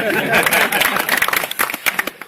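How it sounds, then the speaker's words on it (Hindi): A crowd at a village felicitation in Pamadi panchayat for the newly elected sarpanch claps loudly and steadily, with dense, close applause that breaks into scattered claps toward the end. "इनके लिए जोर से ताली बजाओ।"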